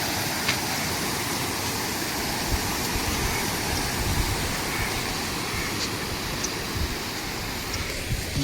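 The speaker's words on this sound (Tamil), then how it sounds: "தண்ணி பாருங்கள் எப்படி ஆறு மாதிரி ஓடுது." River-like water rushes steadily past a bridge near Kanyakumari and Nagercoil, a constant, dense wash of noise with no break or voices.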